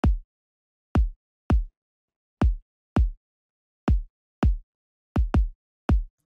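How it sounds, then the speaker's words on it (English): Electronic kick drum played solo in a simple dance pattern, ten deep thumps with short decays separated by silence, one quick double hit near the end. "The kick sounds like this when we play it on its own."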